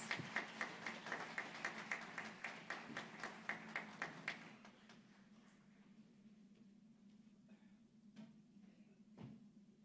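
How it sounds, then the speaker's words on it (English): A small audience at a regional innovation council gathering claps in a quick steady rhythm for about four seconds, sounding like just a few pairs of hands, then stops and leaves faint room noise with a couple of stray knocks. "Everyone, a round of applause."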